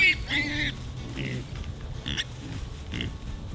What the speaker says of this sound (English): Which still does involve a lot of snorting.